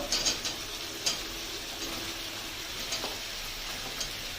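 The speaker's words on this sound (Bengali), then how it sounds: "এবারে দিয়ে দেবো কেটে রাখা ঝিঙেগুলো" Chopped ridge gourd goes into a hot pan and fries with a steady, soft sizzle, with occasional scraping clicks of a spatula as it is stirred.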